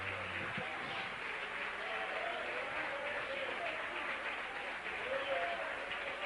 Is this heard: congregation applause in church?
yes